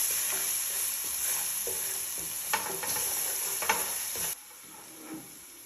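Spicy samosa filling with ginger and garlic stirred in a hot pan, a steady sizzle with scraping spatula strokes and a couple of knocks, then the sizzle drops sharply quieter near the end, with no talk.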